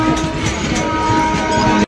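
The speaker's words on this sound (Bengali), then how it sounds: "আর পাশ দিয়ে কিন্তু ট্রেন যাচ্ছে" Train running along a railway line beside a level-crossing gate near Tarakeswar, a loud, close, continuous rumble with a droning tonal hum that holds steady before cutting off abruptly.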